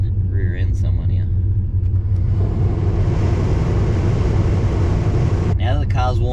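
A Holden Monaro with a turbocharged LS V8 idling, its engine a deep, loud, lumpy rumble heard from inside the car, with someone talking over it at the start and end.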